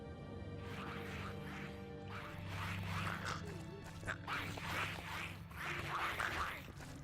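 Chickens being killed over and over in Kingdoms of Amalur: Reckoning, with clucking squawks, sharp hits and thuds in repeated bursts over a faint musical game background.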